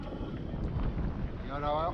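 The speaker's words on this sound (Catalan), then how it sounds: "Anem a vela." A sailboat underway in about 10 knots of wind, with wind buffeting the microphone and water rushing past the hull in a constant low roar, with a faint voice under it.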